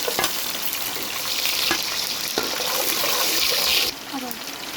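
Garlic fries in oil with popped mustard seeds, making a bright, steady sizzle close by with a few sharp crackles and pops, settling into a quieter hiss at the end.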